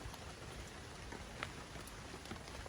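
Steady, soft rain falling with an even hiss and scattered faint drop sounds, no voices.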